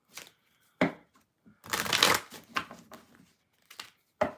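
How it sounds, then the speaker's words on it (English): Bursts of tarot cards being riffled and shuffled, several quick flurries with short pauses between, close and fairly crisp, no voices. "I am moving on to water after I shuffle."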